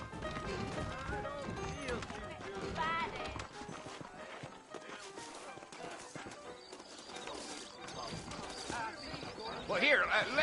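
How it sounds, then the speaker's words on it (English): Horses clip-clopping in Red Dead Redemption, a run of hoofbeats under a voice, with scattered clatter and ambient game sounds and a louder burst near the end. "I got the horses saddled up and ready out front."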